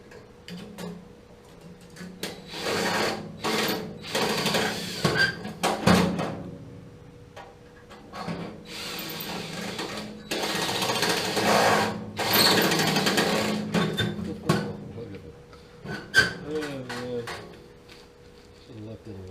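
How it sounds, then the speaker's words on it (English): A Dremel rotary tool runs in short, separate bursts of high-pitched buzzing on a 2007 American water heater, with pauses in between and some clanking handling noise. "I need like a Dremel tool to get this thing"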